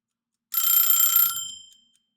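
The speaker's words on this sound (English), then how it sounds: "Okay, I heard my timer go off." A timer alarm goes off nearby in a short, bright electronic burst of ringing, lasting about a second before quickly fading out, with no voices.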